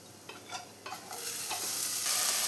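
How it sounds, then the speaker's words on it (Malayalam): A spoon stirs cooked beans and banana peel in a pan, giving a few scraping strokes over a soft sizzle that swells into a louder, steady frying hiss near the end. "സിമ്മിൽ തന്നെ വെച്ചിട്ട് നമുക്കിതെല്ലാം നന്നായി മിക്സ് ചെയ്തെടുക്കാം."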